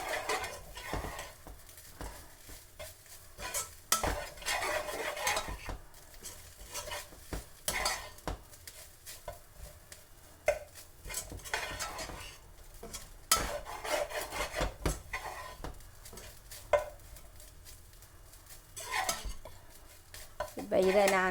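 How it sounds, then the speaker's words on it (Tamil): Semolina (rava) being stirred and roasted over a low flame in a pan for coconut rava laddu, heard as repeated soft scraping and rubbing strokes of a utensil against the pan, close but fairly quiet, no talking. "இதை எடுத்துட்டு பிறகு ரவ்வையும் நல்லா வறுக்கணும்."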